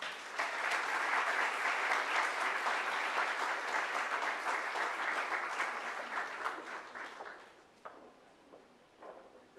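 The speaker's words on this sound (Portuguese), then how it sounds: "uma salva de palmas ao chanceler de nossa universidade" An audience at a university lecture gives a sustained round of applause for the chancellor, a dense steady clatter of many hands that tapers off into a few scattered claps near the end.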